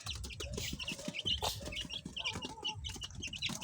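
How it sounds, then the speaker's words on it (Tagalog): A close flock of young chicks, nearly a month old, peeps and chirps constantly, with overlapping high calls and some soft clucking underneath. "Napakasigla po ng ating mga sisiw."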